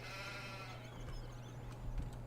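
Sheep bleating in Farming Simulator 17, faint and drawn out over a steady low hum of game ambience.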